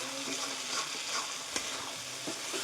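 Crab curry stir-fried in a pan with spices, a steady close sizzle broken by scraping stirs and the occasional clink of the spoon.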